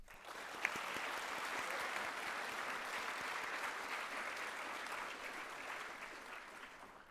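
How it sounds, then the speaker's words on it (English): A room full of people at an NHS induction ceremony claps in a steady, even round of applause, moderately distant, holding for several seconds before tapering slightly. "Please join me in thanking them with a round of applause."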